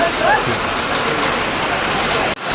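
Extreme heavy rain pours down in Mumbai, a dense, continuous hiss of downpour close by, steady throughout with a brief dip near the end and faint voices underneath.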